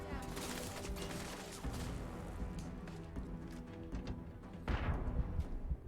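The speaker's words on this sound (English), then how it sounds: "They have grenades and like rapid fire guns if you close the gap" In the Starfield video game, enemy soldiers with rapid-fire guns unleash dense bursts of gunshots, a loud, chaotic volley of overlapping cracks that swells again near the end.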